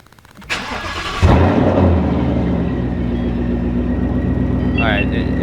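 A supercharged Ford Mustang 5.0 fitted with an MBRP street exhaust cranks and fires up, then settles into a loud, steady, deep idle rumble at close range, with a brief higher-pitched sound near the end.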